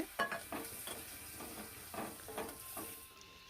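Curry leaves, cumin and dried red chillies fry in hot oil in a pan, giving a quiet sizzle with soft, repeated stirring scrapes and no talk.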